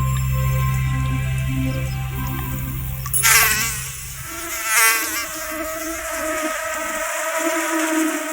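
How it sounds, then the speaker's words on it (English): Mosquitoes swarm in the far-north polar summer, giving a steady, continuous insect whine that holds at a fairly even level throughout, with a couple of brief louder surges partway through. "The warmer the summer, the bigger the mosquito plague."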